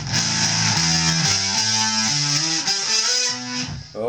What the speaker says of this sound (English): I'm going to be playing this on a baritone guitar,